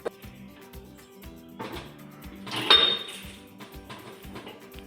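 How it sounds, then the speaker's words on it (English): A stone grinder jar is fitted and locked onto a 1-litre masala chutney grinder, giving a few close hard clinks and clatters of metal and stone with a brief louder scrape of tightening near the middle. "I'm fitting the stone, locking it."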